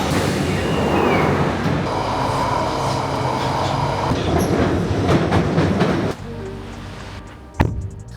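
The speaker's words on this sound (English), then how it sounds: "let's get on the train" A train ride heard from on board, a loud, steady rumble of wheels and carriage noise that drops away near the end before a sharp clunk.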